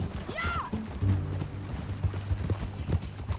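Horse hooves clip-clop in a steady rhythm in the Red Dead Redemption 2 video game, mid-loud and close, with a brief vocal sound near the start.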